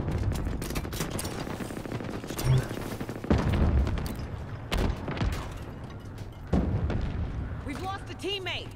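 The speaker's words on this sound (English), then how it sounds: "Battle rifle." Battle rifle bursts in Halo Infinite, rapid sharp shots and blasts in loud clusters amid game effects, with a player talking over the fire.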